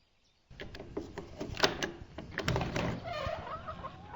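A chicken coop door opens with a sudden start, followed by several seconds of continuous rattling, scraping and knocking that stays at a moderate, steady level, with no voices.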